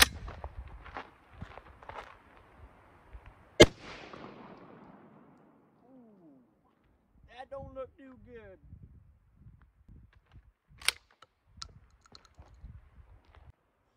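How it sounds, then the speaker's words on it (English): A single loud 12 gauge shotgun blast from a Canuck Commander with a two and three quarter inch shell, one sharp close report followed by a decaying echo, amid scattered handling clicks and someone talking. "we're going to be using the 12 gauge shotgun"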